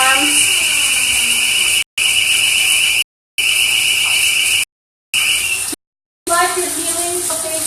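A building alarm sounds in repeated steady high-pitched bursts separated by brief silences, loud and close, with a faint voice audible near the end.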